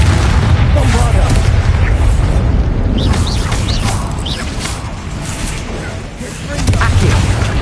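Bombarda blasting-spell explosions in Hogwarts Legacy produce a heavy, sustained booming rumble, loud throughout, dipping briefly before surging again near the end.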